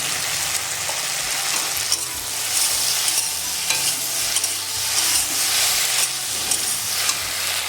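Chopped tomato added to okra frying in a pan, seasoned with turmeric and salt, sizzles steadily and loudly close up while a spoon stirs with repeated scraping knocks.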